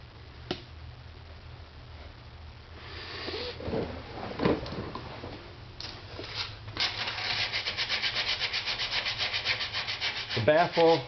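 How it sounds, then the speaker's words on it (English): Sanding inside a 3-inch motorcycle exhaust baffle with 220 grit sandpaper, a close, continuous rubbing scrape that grows faster and more rhythmic toward the end. "and I'll sand it out"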